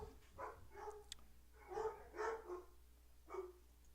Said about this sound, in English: Can you guys hear the dogs barking?